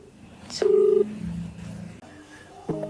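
A phone keypad beeps through a short series of dialing tones, some brief and some held longer, close by and clear.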